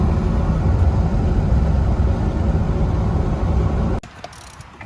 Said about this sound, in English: I'm just taking it out on a quick test drive